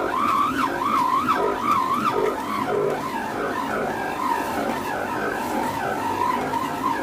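An Advance SMX 50 stand mixer's motor strains under a heavy load, its whine wavering up and down in pitch continuously at close range, with no voices.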